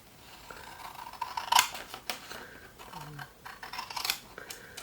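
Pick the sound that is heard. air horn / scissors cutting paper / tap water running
scissors cutting paper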